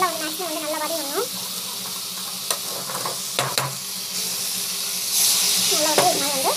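Vegetables sautéing in a pan: a steady close sizzle with stirring scrapes and a few clinks, while someone talks over it.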